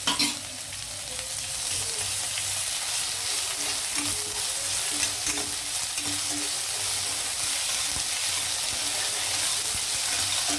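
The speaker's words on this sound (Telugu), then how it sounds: "ఇది కొంచెం వేగేటప్పుడే నేను ఇందులో అల్లం వెల్లుల్లి పేస్ట్ వేస్తున్నాను." Ginger garlic paste frying in a pan for green peas pulao, a steady, loud, hissing sizzle that holds evenly throughout, close up with no voices.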